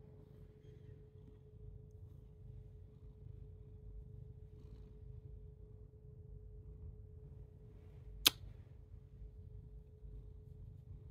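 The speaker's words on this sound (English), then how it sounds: "What a purr." A cat purrs softly and steadily close by, a faint low continuous rumble with one brief click partway through.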